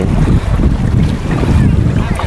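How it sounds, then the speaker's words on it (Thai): Steady wind gusts buffet the microphone at a sandy beach with clear water, a constant loud rushing roar with no pauses. "ลมแรงลมก็ไม่ได้แรงมากก็คือมีลมตลอดเวลานะครับ"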